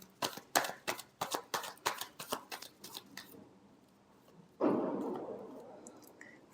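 Tarot cards shuffled by hand in a quick run of crisp riffling flicks, about a dozen in a row, then a pause and one longer, louder swishing shuffle, heard close and quiet with no talking.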